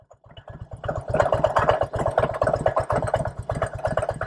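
A Harley-Davidson Road King Classic engine with a leak idling close by, a steady low throbbing pulse that picks up slightly after the first second and runs on unevenly.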